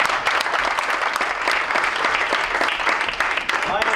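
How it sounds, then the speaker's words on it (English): Audience at a magic show claps warmly, a dense burst of applause that carries on steadily with voices mixed in. "How about a round of applause for my lovely assistants?"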